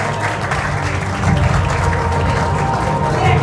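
Applause from an audience at a 2024 graduation ceremony for graduate Shahriyor, a dense, steady wash of clapping that swells louder partway through and continues to the end.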